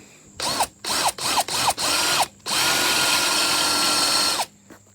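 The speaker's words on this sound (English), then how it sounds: "we're going to go ahead and take out this rivet" A power drill drilling out a rivet on a 1992 Mazda Miata whirs in several short bursts that spin up and stop, then runs in one long continuous grind before cutting off, loud and close.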